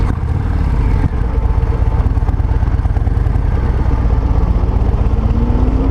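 A 2023 Harley-Davidson Breakout 117 engine rumbling steadily with a deep, throbbing V-twin pulse and some wind noise while riding, close and loud and continuous, with a slight rise in pitch toward the end.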